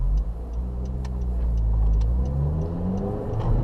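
An 8th-generation Honda Civic Si engine holds a loud, steady, droning rev near its 8,000 RPM redline, a rising whine with faint ticking clicks over the continuous roar, and no talking.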